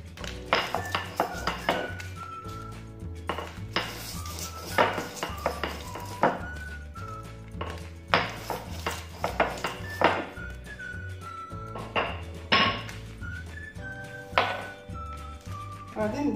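Nescafé granules for no-bake Fakkas sweets are crushed in a bowl, making repeated close taps, knocks and clinks against the dish, with someone talking over them.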